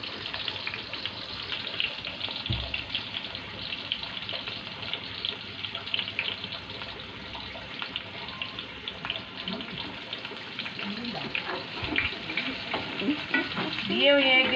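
Paneer cubes fry in hot oil in a pan for biryani, giving a steady soft sizzle with occasional stirring scrapes and louder crackles toward the end.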